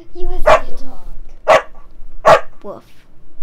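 A voice imitates a dog with three loud, clipped barks spaced about a second apart, then a softer yip, close up in a comedic summer-camp skit.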